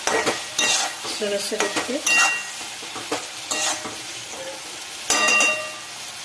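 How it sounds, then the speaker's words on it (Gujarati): Eggs being stirred into roasted masala in a pan for anda masala: repeated spoon scrapes and clinks over a steady sizzle, with a brief voice at one point. "હવે આપણે ઈંડા નાખી દઈશું, જેને આપણે હલાવીશું"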